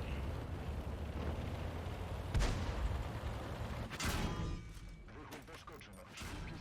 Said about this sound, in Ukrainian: Наш герой отримав два влучні постріли від свого конкурента Бураска з ворожої команди